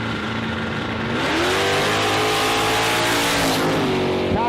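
A drag racing car at Warwick Dragway roars down the strip, its loud engine note climbing steadily in pitch as it accelerates hard, running continuously and close throughout with no voices.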